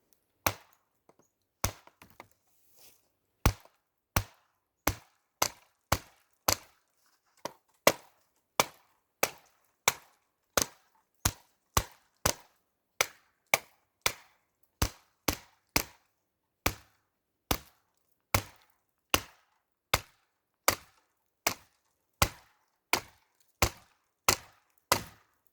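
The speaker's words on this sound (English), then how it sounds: "I let the weight of the blade actually come down and chop it down like a hatchet would" A Bear Grylls Pro knife chops into a really dry piece of wood like a hatchet, striking about forty sharp, close, evenly spaced blows in a steady rhythm with no talk.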